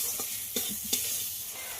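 Ground turmeric, Kashmiri chili and coriander powder sautéing in oil in a pan, a steady sizzle with a few soft scraping stirs, close and alone without talk.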